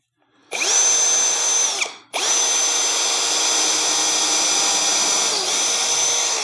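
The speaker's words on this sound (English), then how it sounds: "I need to put some screws sideways here." A power drill drives screws sideways into the floor frame of a travel trailer built on a Harbor Freight trailer. Two close, loud, sustained whirring runs are split by a short pause, and the second run holds steady to the end.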